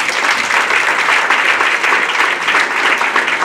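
Wedding guests give a loud, dense round of applause right after the ring exchange, steady clapping sustained without pause.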